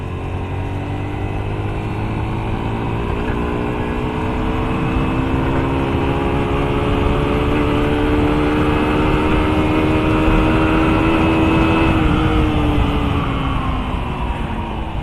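A Zongshen Bubble scooter's engine revs steadily during a test ride, its pitch climbing slowly over several seconds under loud wind rush before easing off slightly.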